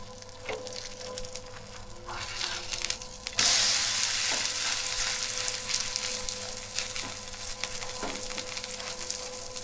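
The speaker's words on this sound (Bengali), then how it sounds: "একটু সময় লাগে এটা ভাজতে, একটু সময় নিয়ে ভাজতে হবে।" A suji (semolina) paratha fries in a pan with a continuous close sizzle that swells louder a few seconds in, with occasional light knocks.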